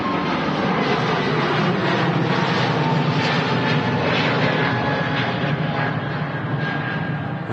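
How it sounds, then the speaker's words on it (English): An easyJet Airbus A320neo with LEAP engines roars down the runway on departure at Manchester Airport, a loud steady broadband engine rush with a thin high whistle running through it. "easyJet A320 Neo now on the roll. Distinct whistle from them LEAP engines"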